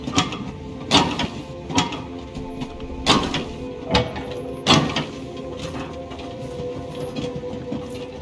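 A train running in the video game Dragon Age: The Veilguard rumbles along steadily, punctuated by sharp rhythmic clanks and knocks roughly every second, loud and close with no talk.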